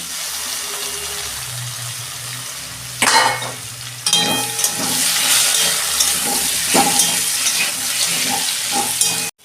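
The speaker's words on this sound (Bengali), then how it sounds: "এই যে আমি একটু তেল দিচ্ছি অল্প, এই যে আমি কচুগুলো একটু ভেজে নেব।" Taro pieces frying in a little oil, quiet at first, then a sudden loud sizzle as they hit the pan, settling into continuous crackling with stirring scrapes, nearby and without talk.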